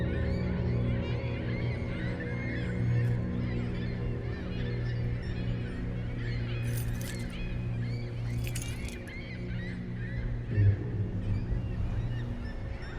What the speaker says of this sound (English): So that's why the birds are crying out.